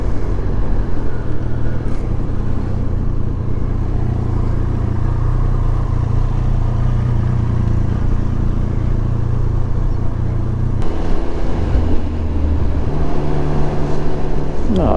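A 2023 Triumph Speed Triple 1200 RS motorcycle engine while riding, a loud continuous drone with wind rush that shifts in tone partway through as the revs change.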